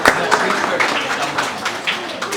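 Clapping for a performer at a Punjabi cultural centre and Punjabi radio art event, a loose run of near claps mixed with voices talking over it.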